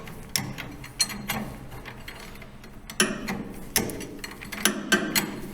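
A ratchet tightens the top nut on a shock mount during a front spring swap on a RAM TRX, in several bursts of quick, close metallic clicking separated by short pauses.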